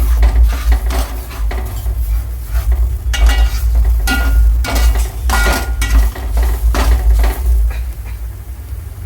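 Chili powder mixture frying in a pan: a loud, continuous sizzle with repeated scraping and clattering of a utensil against the pan, close by, no speech.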